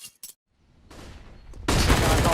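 Gunfire from Counter-Strike: Global Offensive during a competitive esports match, a few sharp early shots then a sustained loud burst of rapid fire, mixed with faint game ambience.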